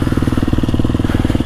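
A 2024 KTM 250 SXF motorcycle engine idles close by, a steady, rapid four-stroke thrum with even pulsing and no talk over it.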